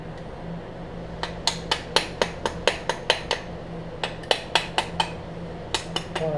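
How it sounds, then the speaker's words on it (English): Sharp metallic taps of a hammer on the carburetor of an 8hp Briggs engine ring out in quick, regular bursts, a dozen or so strikes, a pause, then another run, close and crisp over a faint hum. "that's why I tap it with a hammer"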